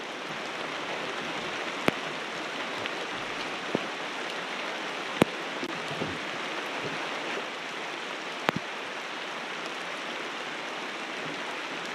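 Rain falling outdoors on a pallet house build site, a steady even hiss of drops on surfaces throughout, with a few sharp isolated knocks standing out above the wash.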